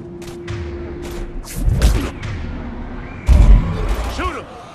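Mass Effect 3 combat with heavy thuds and bursts of gunfire, including two strong booming impacts, mixed with game effects and a voice speaking over the action.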